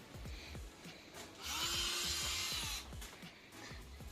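A battery-powered toy cordless drill from a DEKO kids' tool set whirs briefly in a single close, high-pitched burst of about a second, with light handling noises before and after.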